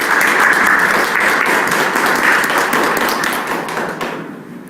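A church congregation at a family church worship service breaks into loud, close, dense applause that holds steady before quickly dying away at the end.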